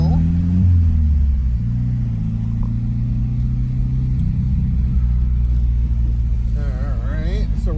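A car engine building toward boost on a wet road at sea level, a low steady rumble rising in pitch near the start, then holding under a speaking voice.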